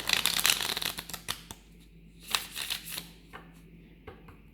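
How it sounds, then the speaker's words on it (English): A small pocket tarot deck is shuffled by hand in quick bursts of riffling card flutter, then pauses between shorter riffles, close and fairly quiet. "and I'm going to shuffle it."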